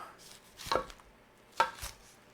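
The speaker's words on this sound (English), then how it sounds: "Just trim off the root." A knife trims the root off a vegetable on a cutting board for chicken stock, two distinct close chopping thuds about a second apart against a quiet background.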